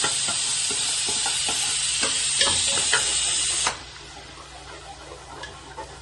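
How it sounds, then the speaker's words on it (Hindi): Spices fry in a pan of oil with tomatoes, a close, bright steady sizzle with light stirring taps that suddenly drops to a softer hiss partway through. "बस इसके अंदर ऑयल में ये सारे मसाले भी डाल दूंगी मैं।"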